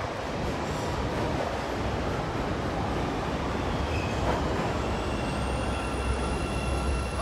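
A CTA Green Line train bound for Harlem/Lake pulls into a station, a steady loud rumble of wheels on rail with brake squeal rising toward the end, no talk.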